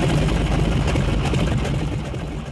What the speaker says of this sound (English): Cranking up the engine of his air tractor is part of John Houston's daily routine